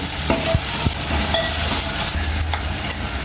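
Taro root and tomato fry in a pan while being stirred, a loud steady sizzle with repeated scraping and knocking of the spoon.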